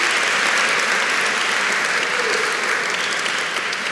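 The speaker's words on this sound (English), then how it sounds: "Let's give the city workers a round of applause." Dense, sustained applause from a crowd honoring city workers at a Black History Month gathering fills the whole stretch at a steady, loud level, with no voices on top.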